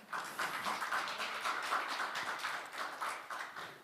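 Audience applause at a book concert event, with steady overlapping claps from a seated crowd welcoming speakers to the front, moderately loud and continuous throughout.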